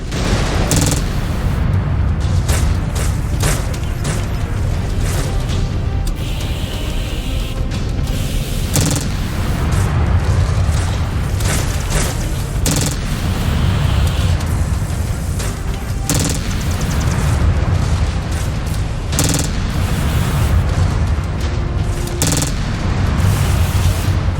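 Incoming missiles explode in the MechWarrior 5 Clans video game, a dense, loud barrage of booms and blasts that pound almost continuously over a rumbling background.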